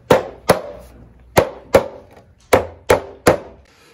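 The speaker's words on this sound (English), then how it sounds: "You're just gonna take your mallet or hammer or whatever you're using, and you're gonna just give it a quick tap on the end of each tenon" A mallet taps wooden tenons into the seat holes of a shavehorse-built chair, producing seven sharp, close wooden knocks in irregular pairs, each ringing briefly before fading, with no speech.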